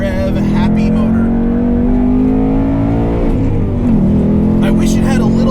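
A 2019 Ford Mustang Bullitt with a modular V8 revs loud and steady from inside the car, its pitch climbing slowly before dipping and rising again near the end.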